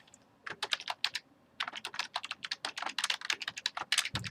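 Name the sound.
typing on a computer keyboard in Google Docs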